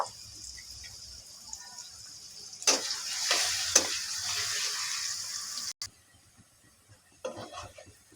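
Chopped onion frying in oil for a Bengali greens pithali, stirred in the pan. A moderate hiss and sizzle swells partway through with a few scrapes, then drops to near silence before faint stirring returns.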